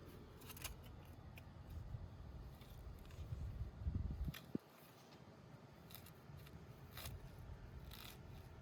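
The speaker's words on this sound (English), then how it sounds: "he's going behind it and he is cutting the edge" A lawn edging tool slices along a turf edge behind curved plastic edging, with a low crunching, scraping push that builds before a sharp snip-like click, then gives way to quiet outdoor ambience.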